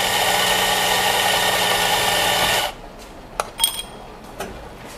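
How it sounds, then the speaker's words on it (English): Pre-programmed coffee grinder grinding 18 grams of medium roast espresso beans, a loud steady whir for nearly three seconds that cuts off, followed by a few faint clicks and knocks. "It's very useful to have a pre-programmed grinder so you don't have to measure or even use a scoop to measure how many grams of coffee you need"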